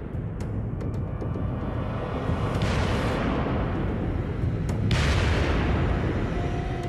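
Gunpowder blasts go off during tunnel construction, a loud, continuous rumbling roar with sharp bursts breaking through twice.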